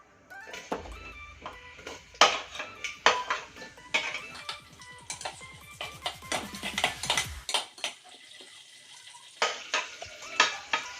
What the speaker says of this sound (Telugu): ఆయిల్ హీట్ ఎక్కిన తర్వాత ఆనియన్స్ పచ్చిమిర్చి టమోటా వేయించుకుందాం